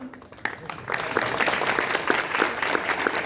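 A crowd at a spiritual lecture claps together in a sustained round of applause, dense and fairly close, following a short moment of quiet speech at the start.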